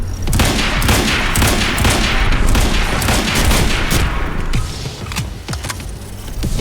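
Rapid, loud gunfire from the video game Quantum Break, with dense overlapping bursts of shots that thin into separate cracks toward the end.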